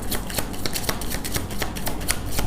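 Tarot cards shuffled by hand, a fast run of dense papery riffles and slaps repeating close to the mic, steady throughout with no talk.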